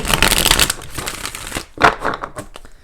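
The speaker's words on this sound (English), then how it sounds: "let's go ahead and do 4 shuffles and really pull the energy" Tarot cards are shuffled close up, a loud rapid flutter of riffling cards that eases off, followed by a couple of shorter shuffling bursts.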